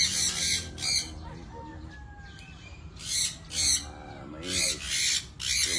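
Chickens squawk in loud, harsh bursts, several calls spaced apart with quieter stretches between, nearby, over faint background noise.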